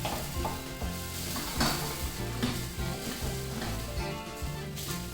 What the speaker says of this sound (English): You really want to cook off that alcohol before you start adding your chicken stocks.